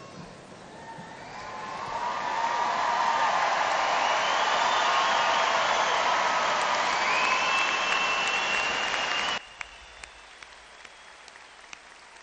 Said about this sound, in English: Let's have a round of applause for the graduates one more time.